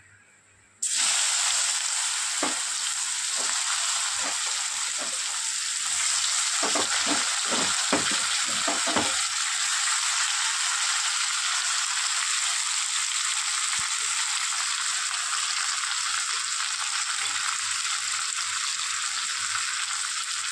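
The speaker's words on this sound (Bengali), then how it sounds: "এবার এই মাছ ভাজা তেলের মধ্যেই দিয়ে দেবো কেটে রাখা পেঁয়াজ আর টমেটো।" Chopped onion and tomato drop into hot oil left over from frying fish and start a loud, steady sizzle and hiss. Several quick clatters of stirring come early, then the frying hiss continues alone.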